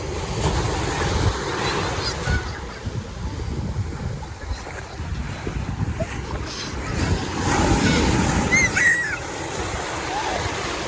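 Ocean waves wash steadily onto the beach at Lingayen, blended with gusty wind rumbling against the microphone, continuous and fairly close for the whole stretch.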